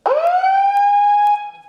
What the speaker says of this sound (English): While sirens sounded outside, an alert was sounded inside the halls of Joplin High School